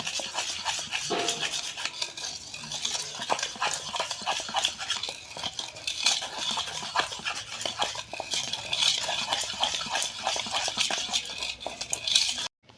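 Cake batter whisked with half a cup of white oil for an eggless sponge cake, producing a steady, fast scraping and clicking of a utensil against the bowl that carries on continuously and close.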